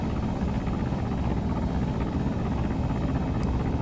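Steady, loud rotor roar and engine drone of a helicopter gunship settling in for a calm landing in Arma 3, continuous throughout with no voices.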